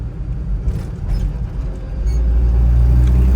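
A 1967 Chevrolet K10 Suburban engine rumbling steadily as it drives along a Blue Ridge Mountains road, a low, close drone that swells louder and fuller about two-thirds of the way through, with no talking.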